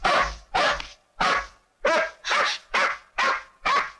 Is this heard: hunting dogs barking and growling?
yes